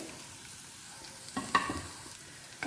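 Ginger strips and garlic frying in hot oil for honey chicken, with a faint, steady low sizzle and a few soft stirring clinks near the middle and end.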